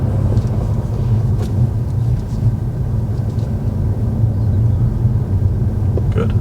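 Car driving slowly on a road during a driving lesson, a steady low engine and road rumble heard from inside the cabin with no talk.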